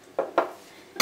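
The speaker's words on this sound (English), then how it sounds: "First mix the yogurt nicely so that there are no lumps." Metal spoon clinks against a bowl while yogurt is stirred smooth, three separate knocks with quiet gaps between them, close and fairly soft.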